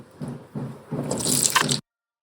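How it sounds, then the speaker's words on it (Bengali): Cubed potatoes dropped into a hot pan with bay leaf and cumin seeds, a few soft wet plops followed by a building moist sizzle that cuts off abruptly. "এবার কড়াইতে একটা তেজপাতা দিচ্ছি আর একটু সাদা জিরে, এর মধ্যে আলুটা দিয়ে দিচ্ছি"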